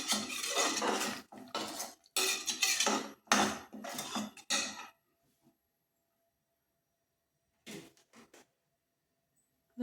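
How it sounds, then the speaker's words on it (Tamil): A spoon stirs rice, water and masala in a pot for Chettinad-style mushroom biryani, scraping and clinking in quick bursts for about five seconds, then silence before one short final stir near the end. "நல்லா கிண்டி விட்டுருவோம்"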